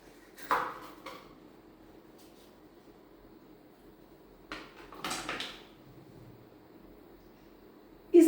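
A kettle whose lid, body and base come apart is opened and handled, giving a few scattered plastic-and-metal clunks and clicks separated by quiet stretches, with a louder knock at the very end.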